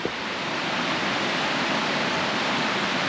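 Steady, close rush of water from the bottom end of a small campsite creek in the Brindabella Ranges, a dense continuous babble with no breaks.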